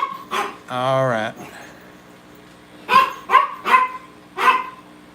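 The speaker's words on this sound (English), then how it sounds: "He's growling at me now." Close dog giving a high drawn-out whine, then a run of four sharp barks, loud and near, with someone briefly speaking in between.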